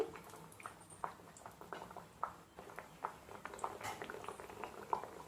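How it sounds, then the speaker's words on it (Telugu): Ariselu, Telugu festival sweets, fry in hot oil with a quiet, steady bubbling and scattered soft pops and crackles, faint and close without any talking. "నూనె వేడైపోయింది కదా అరిసెలు వేసేసుకుందాం"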